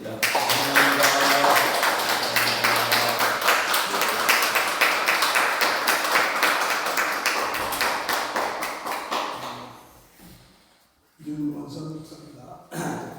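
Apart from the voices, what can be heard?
applause in church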